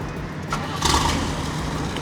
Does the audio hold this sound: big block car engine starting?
yes